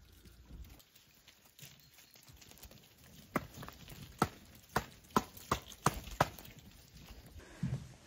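Lambs shuffling and stepping about inside a shed, with a series of sharp hoof knocks against the floor and boards in an uneven rhythm, faint and close over a quiet, noisy background.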